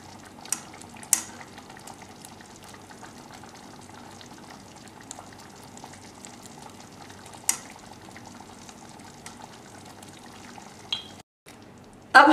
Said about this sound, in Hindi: And now we'll go on stirring it.